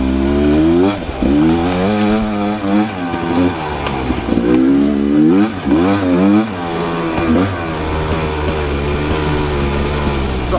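A Rieju Ranger motorcycle rides on sand in second gear, its engine droning loud and close with repeated rising and falling revs as the throttle is worked.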